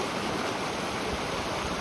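Flowing water in a stream, a steady close rushing wash that runs on without a break and with no voices.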